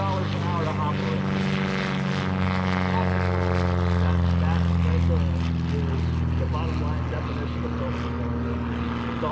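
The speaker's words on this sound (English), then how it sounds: "The RV10 that's departing right now" A Van's RV10 light aircraft departs at EAA AirVenture 2018, its propeller engine a loud, steady, close droning roar that holds throughout.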